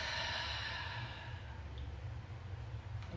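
A long, steady breathy exhale during an early-morning yoga session, close and continuous for about three seconds, fading slightly toward the end.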